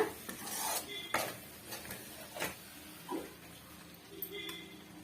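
Onion thokku being stirred in a pan over a medium flame: quiet, irregular scrapes and clinks of a spoon against the metal pan, spaced a second or so apart, over a soft background hiss.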